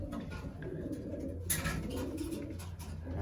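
Racing pigeons coo on race day in Colorado, a low, soft, repeated cooing close by against faint outdoor background noise, with a brief sharper noise partway through.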